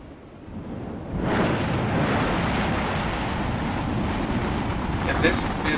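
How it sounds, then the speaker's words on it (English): A Space Shuttle main engine fires on an A test stand at NASA Stennis Space Center, a deep broadband roar that surges in after about a second and holds steady and powerful from a distance. "this is the Space Shuttle engine tested here at Stennis"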